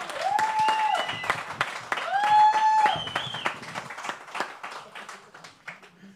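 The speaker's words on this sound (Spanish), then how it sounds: "¡Un aplauso ahí!" An audience at a live comedy show claps in a burst of applause, with loud whistles rising over the clapping before it fades into scattered claps.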